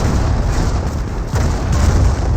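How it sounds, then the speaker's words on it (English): A Calliope rocket barrage in Company of Heroes sends a dense, continuous rumble of heavy explosions, loud and booming, overlapping without a break for a couple of seconds. "point blank Calio Barrage will get some great, annihilates all the Panzer Grenadiers"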